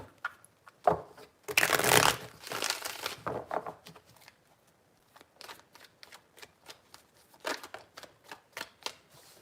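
Tarot cards are shuffled by hand in a quiet room: a burst of riffling near the start, then a long run of separate soft card flicks and taps at an uneven rhythm, close and fairly faint.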